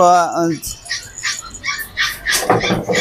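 A dog whines briefly, then a series of short yips and barks follows in an irregular burst, with a voice talking over it.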